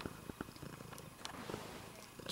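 A cat purring very close and soft, a rough low rumbling pulse that repeats steadily with faint clicks, alone without talk.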